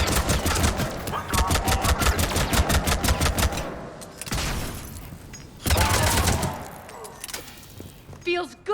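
Rapid automatic gunfire rattles in a Mass Effect: Legendary Edition firefight. A loud sustained burst is followed by a brief lull, then another heavy volley and a few scattered shots.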